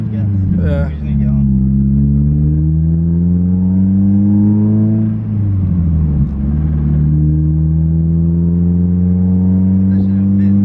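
A Mazda Miata with its check-engine light on revs as it pulls away. The loud, close engine tone climbs steadily, drops briefly as it shifts, then climbs again, with a short bit of talking near the start.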